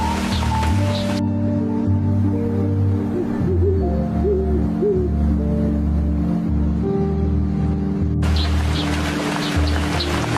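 An owl sheltering its young in the cold gives soft low hoots, a few brief rising calls in the middle, set against a steady dense background of music-like tones and rain-like hiss.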